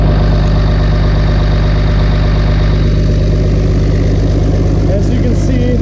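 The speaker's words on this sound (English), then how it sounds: "I don't know if you can really hear me over the engine." A Cummins diesel engine fitted with an S500 turbo idles loud and close, a steady low rumble with a constant drone and faint whistling throughout.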